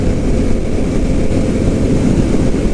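Indian FTR 1200 motorcycle engine pulling hard under acceleration, a loud, steady low roar blended with heavy wind rush that holds constant from start to finish.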